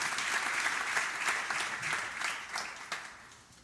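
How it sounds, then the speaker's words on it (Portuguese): A church congregation applauds with sustained, dense clapping that fills the room, holds steady and then gradually thins out toward the end. "Enquanto você aplaude a Jesus"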